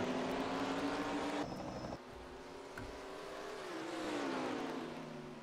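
Race cars in the NASCAR Racing 2003 video game at Watkins Glen drone through the esses, the engine pitch dropping sharply as one shifts, then climbing again through the gears in a steady roar.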